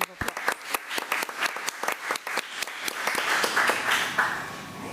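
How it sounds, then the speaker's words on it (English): At a public committee meeting honoring school staff, a few sharp, separate claps quickly build into fuller, denser applause from the room, with some voices mixed in as it swells and holds. "Let's give Mrs. Whaley another round of applause"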